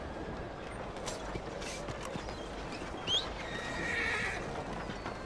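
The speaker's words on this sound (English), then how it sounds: "Oh, my horse is here." In Red Dead Redemption 2, a Missouri Fox Trotter horse gives a clear whinny, and its hooves clip-clop faintly over steady outdoor ambience, close and moderately loud.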